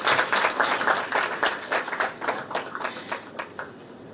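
Audience applause at a film trailer launch event, a dense crowd clapping continuously and fairly loud, then thinning into scattered claps toward the end.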